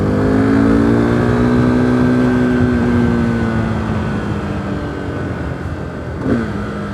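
A Yamaha FZ-07 motorcycle engine revs and then falls in pitch as the throttle rolls off for a downshift on the road. The note is loud and steady and sweeps down smoothly, with a brief blip near the end and no talk.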